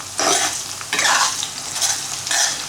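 Onions sautéing in a kadai for prawn thokku, three loud bursts of hissing sizzle as they are stirred, with quieter frying between.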